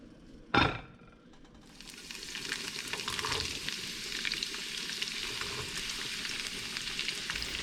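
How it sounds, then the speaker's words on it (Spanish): Vegetables sizzle steadily in a hot pan, a sharp clatter at the start giving way to a continuous loud crackling fry that fills the rest of the moment, with no talking. "por mientras sofrío los vegetales"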